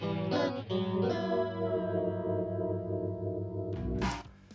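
An electric guitar plays the short intro to a song, notes shimmering through chorus and distortion effects, sustaining smoothly before a brief burst at the end.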